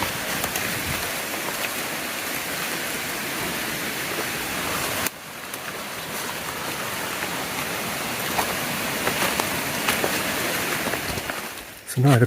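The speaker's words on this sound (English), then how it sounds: "River still on our left." A river in a tropical rainforest rushes steadily and broadband, close and continuous. The flow briefly dips in level midway, and faint voices can be heard.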